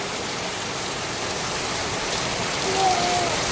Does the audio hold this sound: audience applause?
no